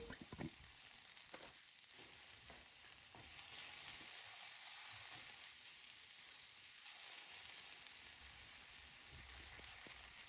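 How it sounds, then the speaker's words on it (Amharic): Onions cook in a frying pan for Ethiopian alcha firfir, giving a soft, steady sizzle with intermittent scraping and stirring clatter, fairly quiet and close, with no talk. "ሽንኩርታችንን እንደዚህ መጥበሻ ላይ አድርገን ማብሰል እንጀምራለን።"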